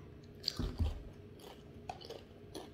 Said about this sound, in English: Honey butter time. Oh my God, they look like Lay's chips.